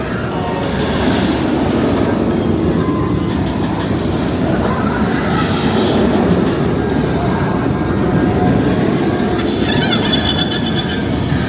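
Roller coaster trains rumble and clatter along the track at Alton Towers after dark, a loud continuous roar of wheels, with a rising squeal near the end.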